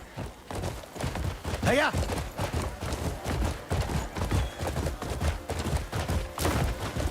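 Horse hooves clip-clop at a gallop through a town in the video game Crimson Desert, a steady busy rhythm running throughout alongside game noise, with a brief voice speaking.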